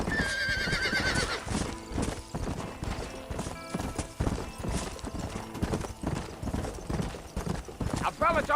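Horse in the video game Red Dead Redemption galloping with rapid rhythmic hoofbeats, a clear whinny at the start and again near the end, with a voice talking over the hooves.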